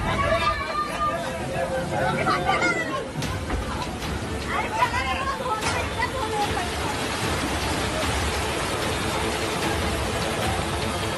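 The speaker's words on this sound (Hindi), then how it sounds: "मुंबई में आज सुबह से ही धुआंधार बारिश हो रही है।" Heavy rain pours over Mumbai's waterlogged streets as a steady, dense hiss that runs without a break, with a crowd's babble and voices mixed in underneath.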